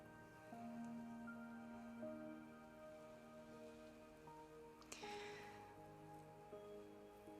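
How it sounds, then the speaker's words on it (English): Gentle rainfall pitter-patters faintly and continuously behind soft lingering tones, with one brief brighter clink midway; nobody speaks. "if you hear the pitter-patter of rainfall, then that's what's going on outside."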